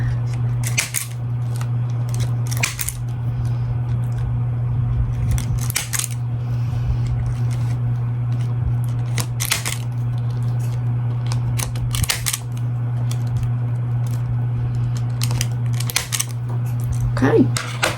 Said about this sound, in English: let's cut these zip ties